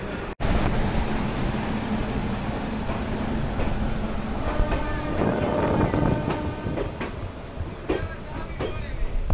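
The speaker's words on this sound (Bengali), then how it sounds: "সঠিক সময় আমাদের ট্রেন ছেড়ে দিল কলকাতা স্টেশন থেকে।" The Kolkata–Digha special train pulls out of Kolkata station, with rumbling wheels, rhythmic clacks over rail joints and metallic squeals, heard close from on board under wind noise.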